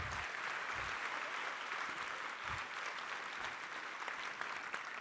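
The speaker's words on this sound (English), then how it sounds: "Can we give them all a round of applause?" A round of applause from the audience at the 2024 Marian University Best Ever Gala: full, continuous clapping from a large crowd, steady and fairly loud throughout with a few deeper thumps mixed in.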